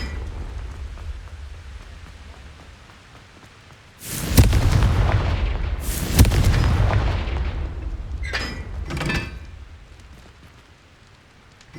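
A Confringo fire spell from Hogwarts Legacy on Xbox bursts in two loud, booming explosions a couple of seconds apart, each trailing into a rumbling tail, followed by a pair of sharper crackling blasts, all without speech.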